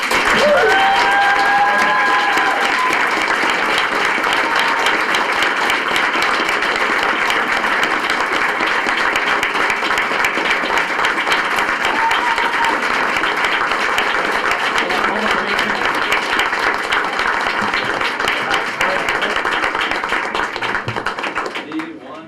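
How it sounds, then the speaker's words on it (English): Sustained applause from a crowd at a school district board meeting, steady and loud throughout, with a few scattered voices and cheers mixed in before it fades slightly at the end. "a big round of applause"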